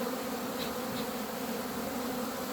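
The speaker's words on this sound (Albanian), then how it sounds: "Bletët janë të qeta, sepse natyra është ka bollek" Honeybees swarm around hives in an apiary during a queen-rearing season, a dense, steady buzzing that stays close and even throughout with no talking.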